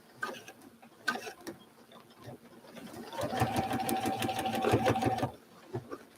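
A sewing machine stitches quilt fabric in a steady two-second run, rapid and moderately loud, set between quieter handling sounds before and after.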